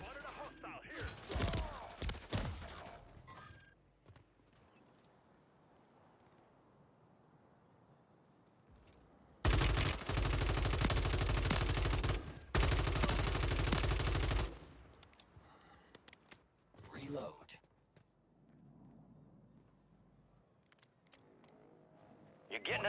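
Gunfire in Call of Duty: Warzone 2, scattered shots and short bursts early, then a long, loud, close sustained barrage of automatic fire, followed by sparser shots amid in-game voice callouts.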